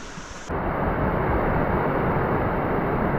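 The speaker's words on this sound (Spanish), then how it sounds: "con cuánta energía y vitalidad va el agua del río por aquí" Fast river water rushing along a rocky stretch near the Baños de Urquizar and Cascada de Alcázar, a steady loud broadband roar that jumps in level after a brief quieter start and then holds constant.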